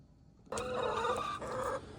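Backyard hens clucking close by in a short, busy burst of overlapping calls, waiting for a homemade flock block treat.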